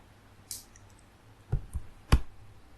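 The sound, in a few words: mouse clicking on Google Pay in Power BI dashboard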